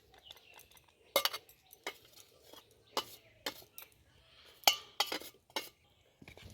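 Homemade potato cornflour goes onto a plate, heard as quiet, irregular taps, scrapes and light clinks of a utensil against the dish in an otherwise silent room.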